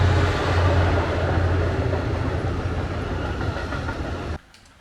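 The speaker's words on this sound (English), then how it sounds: "it's a train going over the train bridge." A train rumbles across a railway bridge over the River Severn, a loud, steady roar with rhythmic clatter that cuts off sharply near the end.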